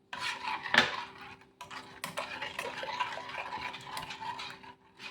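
Cherry sauce stirred in a pot on a stove, with a utensil scraping and clinking against the pot in an irregular, continuous rhythm, close and moderately loud with no voices.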